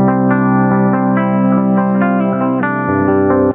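Clean electric guitar tone shaped by PreSonus Studio One Ampire with the bass turned down, a short run of ringing, sustained notes and chords played alone at a steady level.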